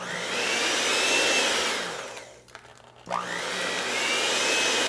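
An electric mixer whirs loudly while mixing dry ingredients into pound cake batter, dipping briefly as it slows with a few clunks, then ramping back up to a steady whine.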